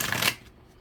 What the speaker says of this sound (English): One more shuffle if we could, please.